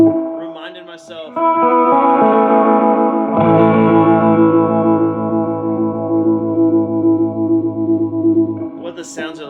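An electric guitar, with a 1979 Gibson ES-347 named in the title, plays through a 1968 Ampeg Jupiter B-22x amp with vibrato and tremolo engaged. Long, sustained, wavering chords ring out loudly after a short voice at the start.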